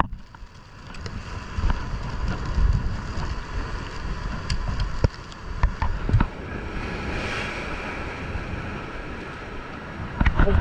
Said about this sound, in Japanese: 北西の風が今多分吹いてますので、